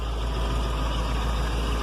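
Engine with a Holley 4180C carburetor idling steadily after a lean-running fault was fixed, a constant low rumbling drone with an even, unbroken tone and no speech.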